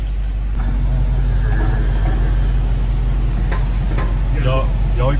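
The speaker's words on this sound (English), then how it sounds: "you loud ass car" Loud car with a second-generation Demon engine swap rumbling near, a deep throbbing idle with revving surges, while people talk over it.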